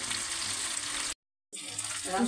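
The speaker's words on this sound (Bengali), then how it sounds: "তারপর মাছটা ভাজতেছি, হালকা করে একটু ভেজে নেব" Taki fish lightly frying in a pan with oil after tomato and spices: a steady, close broadband sizzle that cuts out briefly for a moment of silence, then resumes.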